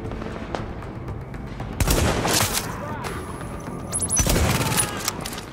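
Two loud, sharp sniper rifle shots ring out in The Division, spaced a couple of seconds apart, each with a short echoing tail over a steady bed of game ambience.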